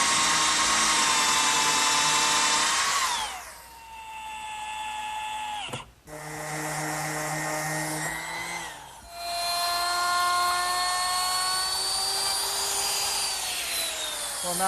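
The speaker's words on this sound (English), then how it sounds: "what it does is it directs the drill at a 15-degree angle" A drill runs steadily at high speed, boring a blind pocket-screw hole at a 15-degree angle through a jig for a kitchen hutch door. The whine drops as the drill slows, with brief pauses near six and nine seconds, then spins back up.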